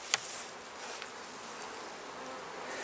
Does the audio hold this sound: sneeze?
no